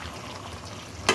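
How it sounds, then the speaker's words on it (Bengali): Mutton frying in a pan in a home kitchen, a soft continuous sizzle with light stirring scrapes, close and quiet, ending in a brief louder clatter. "এখন একটু নেড়ে তারপর এটাকে ঢেকে দিব।"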